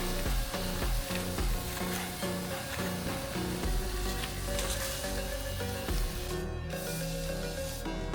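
Food fries and sizzles steadily in a home kitchen, with stirring noises mixed in, under a continuous background of repetitive tonal hum and clatter.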